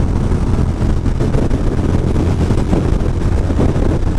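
Heavy wind buffeting a hoodie on a rider cruising a Ducati motorcycle, a loud continuous low roar and flutter with engine rumble underneath throughout.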